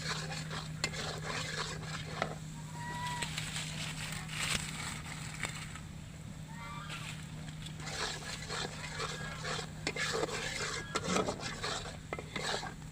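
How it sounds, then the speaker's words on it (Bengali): Spice paste with salt being stirred and fried in a pan for a fish curry, with steady scraping and rubbing of a spoon against the pot over a constant low hum, with no talking. "স্বাদ মতো নুন দিয়ে ভালো করে মশলাটা কষিয়ে নেব।"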